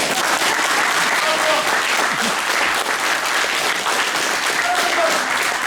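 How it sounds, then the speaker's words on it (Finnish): Wedding guests applaud continuously at a reception where a chainsaw juggler performs, a dense, even wash of clapping with faint voices underneath throughout. "Taputtakaa kengät pihalle."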